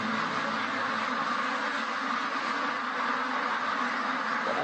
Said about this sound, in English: Got another duck here, looks like it's trapped.